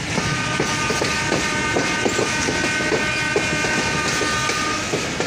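Rocket Mail train hauled by WDM-3D diesel locomotive 6403 on the Chilahati to Khulna run, its wheels beating a steady clickety-clack over rail joints beneath a constant rolling rumble and hiss.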